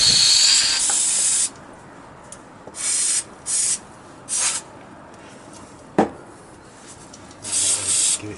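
Carb cleaner sprayed into a Suzuki GR650 Tempter carburetor: a long opening hiss, then several short, loud spray bursts separated by pauses, with a sharp metallic knock partway through.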